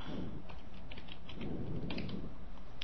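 Soft, quick keystrokes on a computer keyboard while coding a web page, a light irregular patter of taps heard close but quiet over a low background hum.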